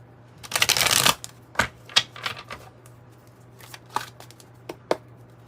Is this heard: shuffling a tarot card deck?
yes